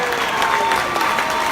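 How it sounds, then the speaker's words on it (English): A convention panel crowd at Wizard World Chicago 2018 breaks into sustained, dense applause, a steady wash of many clapping hands with faint cheering mixed in and no talking over it. "Get on your feet. Clap loud."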